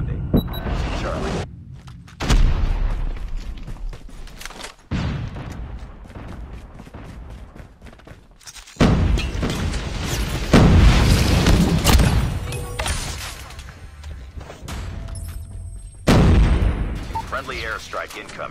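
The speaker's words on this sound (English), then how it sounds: "Friendly airstrike incoming." Repeated heavy airstrike explosions in a first-person shooter game, several loud deep booms and rumbling blasts with gunfire-like crackle rolling across the battlefield, broken by short quieter gaps and faint game voice announcements.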